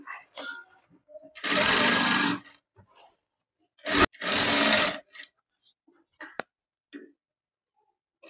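A sewing machine stitches the neckline of a front-open, back-boatneck blouse in two loud, close bursts separated by a pause, with light fabric handling and clicks in the gaps.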